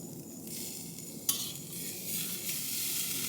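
Food sizzles steadily on a portable Kamado grill, a constant close hiss with a brief clink partway through and no voices.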